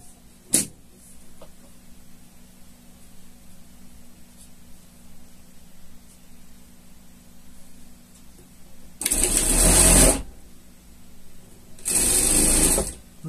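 A sewing machine stitches fabric for a shark costume in two loud bursts, about a second each, after a quiet stretch with a faint low hum and a single sharp click near the start.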